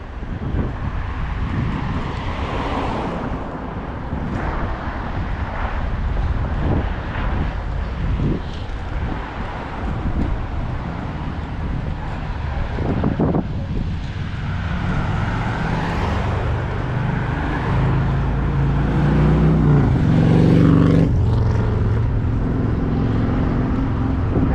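Vehicles pass along a main road in Maine on a warm spring day, a continuous rumble with passes swelling and fading, one louder vehicle near the end, and wind noise on the microphone.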